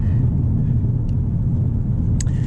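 A Hyundai Elantra N with a six-speed manual accelerates on the highway, its engine a steady, deep rumble heard from inside the cabin. Road and wind noise sit under the engine, with a couple of brief clicks near the end.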